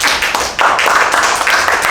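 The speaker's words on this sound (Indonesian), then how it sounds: "Tepuk tangan buat Bang Oman." Studio audience clapping for a podcast guest, brisk close clapping with a short dip then a louder resumed burst, continuing to the end.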